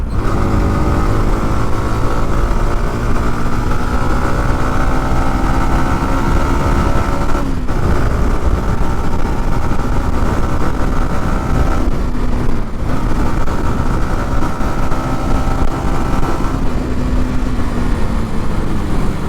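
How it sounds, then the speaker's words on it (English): A 2024 Yamaha R15 V4 150cc motorcycle engine drones loudly and continuously, its pitch dropping and climbing as it shifts down and revs, heard up close while riding. "if I just downshift a little and give a little rev"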